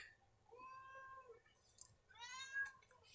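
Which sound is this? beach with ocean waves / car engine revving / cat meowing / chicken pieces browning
cat meowing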